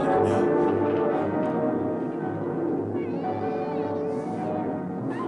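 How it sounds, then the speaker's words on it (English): A cat meows in an old film soundtrack, voiced cries rising over a steady low hum and background music, continuous and fairly loud throughout. "Get that cat out of here."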